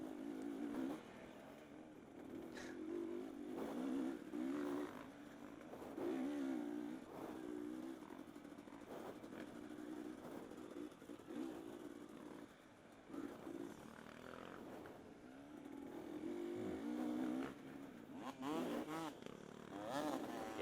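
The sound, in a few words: dirt bike engines revving in harescramble race traffic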